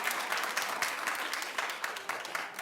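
Studio audience applause on a talk show, a full even burst of many people clapping with small surges in intensity, heard alone without any speech over it.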